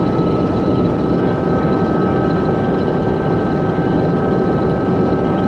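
A Massey combine threshing barley gives off a steady, loud mechanical roar with constant engine drone and tonal whine, running continuously up close with no speech.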